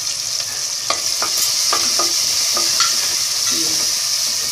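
Tomato, garlic and onion sauté in a pan with a steady bright sizzle, while a spoon stirs and scrapes through them in several distinct strokes.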